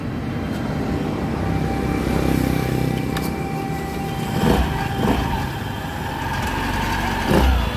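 A Honda Beat FI scooter engine turned over by hand-starting, producing a steady mechanical drone and hum with a few brief knocks and revs, fairly loud and close with no voices.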